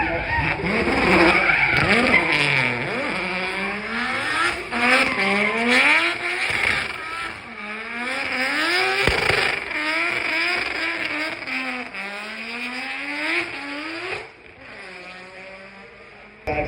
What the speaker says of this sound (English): The Sirocco vehicle comes up the hill